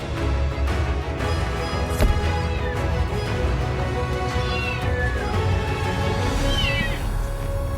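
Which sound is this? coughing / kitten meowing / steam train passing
kitten meowing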